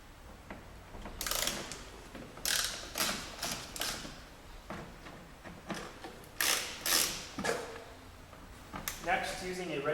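Three T30 Torx screws are backed out of an underbody panel on a 2.7T Audi Allroad, giving short, repeated ratcheting clicks and scraping bursts close by, with a voice talking at times.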